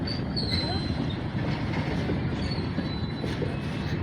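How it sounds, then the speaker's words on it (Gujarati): A train rumbles past close by, wheels clattering on the rails with a faint metallic squeal riding over the steady roar. "હવે ટ્રેન આવશે આગળ"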